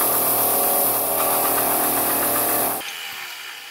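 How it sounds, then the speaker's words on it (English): A belt sander grinds flat facets onto a forged hammer's handle, a loud continuous whir with a gritty sanding texture that runs for nearly three seconds, then cuts off to a quieter fading hum. "I'm going to go ahead and take it to the belt sander and just sand some flat facets"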